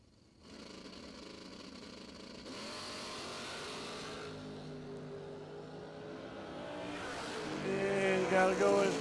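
A Mustang drag race car at a bracket race revs and runs, the engine roar building in stages and rising to a loud close rumble near the end, with an announcer's voice heard in the background.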